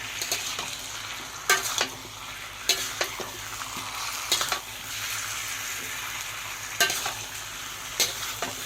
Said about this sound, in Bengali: এবার আমি গুঁড়ো মশলা দিয়ে দেবো, দিয়ে আমি অনেকক্ষণ নাড়াচাড়া করে নেব।